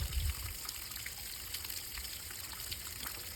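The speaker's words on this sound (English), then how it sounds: "So the flushing appears to be floating stuff up out of the tank here" Water flushing and trickling out of a generator's gas tank, a steady low watery wash with a faint hiss that runs through the whole stretch, fairly quiet and continuous with no voices.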